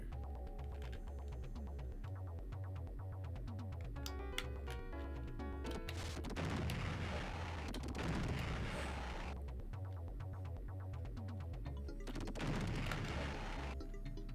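Rapid gunfire and booming blasts from the Alien 3 Sega Genesis game run over a continuous chiptune soundtrack with a throbbing bass line, and the shots come in loud bursts.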